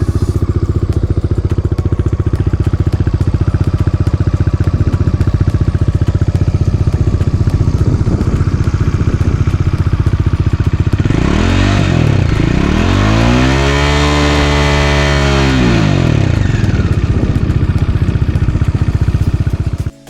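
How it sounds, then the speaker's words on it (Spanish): A Bajaj Dominar 400 motorcycle engine runs loudly and steadily up close through its twin-outlet exhaust, revving up and back down in a long swell before cutting off abruptly at the end. "Este es el encendido. Así suena la moto."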